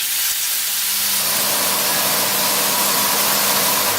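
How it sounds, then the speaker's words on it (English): Teriyaki tofu skewers sizzle on a non-stick grill, a loud, steady broadband hiss that holds without a break, close at hand. "we are going to grill the tofu on all sides until they have these nice grill marks"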